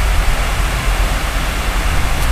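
A small city waterfall in Cleveland, Ohio gives a steady, even rush of falling water, broadband and continuous at close range with no talk over it.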